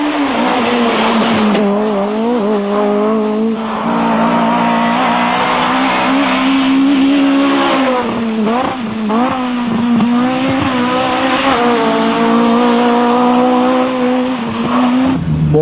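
A 1995 Renault Clio Maxi rally car on test roars loudly and continuously, its engine rising and falling through repeated gear changes with brief tire squeals as it drives past at speed.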